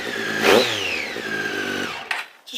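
A 2013 Triumph 675R supersport motorcycle engine revs hard once, its pitch sweeping up then gliding down as it settles, followed by a short blip of throttle near the end.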